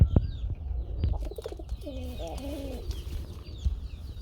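Golla pigeons at a pigeon farm give a short run of soft, low cooing in the middle of the moment, fairly close, over a low background rumble with a few faint clicks.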